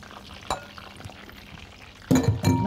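A spoonful of vinegar is poured into tomatoes mixed with cumin, coriander, salt and black pepper. A brief liquid splash comes early, then a louder, closer pouring and clinking burst near the end over a quiet kitchen background.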